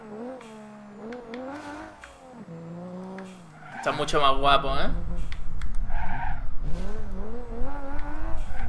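Updated engine sound of a car in BeamNG.drive lapping a circuit, a close revving tone that climbs and falls through gear changes, then a harsher rev with tire squeal, heard under someone talking in Spanish.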